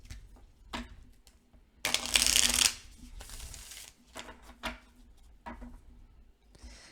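A deck of oracle cards is shuffled by hand in a quiet room: soft taps and slides, then one short, dense riffling burst near the middle, faint overall.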